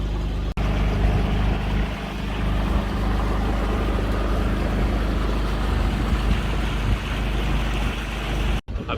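A sailboat motors under engine power into a west wind, a loud, constant engine drone blended with rushing water and wind noise filling the whole stretch with no talk.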